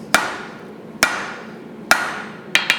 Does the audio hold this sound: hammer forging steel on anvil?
yes